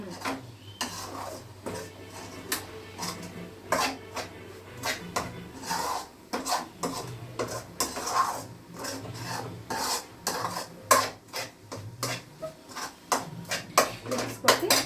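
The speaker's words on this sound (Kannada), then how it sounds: "ಸಿಮ್ಮಲ್ಲಿ ಇಟ್ಕೊಂಡು ಸ್ವಲ್ಪ ಫ್ರೈ ಮಾಡ್ಕೊಳ್ಳೋಣ" Ingredients for a jackfruit kadubu are stirred in a pan on a low flame, making repeated close scraping and rasping strokes of a utensil against the pan in an uneven, busy rhythm.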